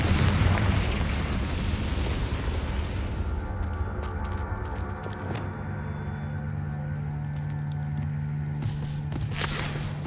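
Confringo explosive spell in Hogwarts Legacy bursts with a loud, booming blast that decays into a low rumble under a sustained humming tone, with a brief sharp crack near the end.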